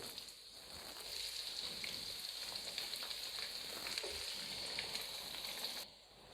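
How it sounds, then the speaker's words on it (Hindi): Onions frying and browning in a pan for a cabbage and beef curry, giving a steady, close hiss of sizzling oil that holds throughout and fades slightly at the end. "अभी हम इसमें शामिल करेंगे प्याज, और प्याज को हमने कर लेना ब्राउन"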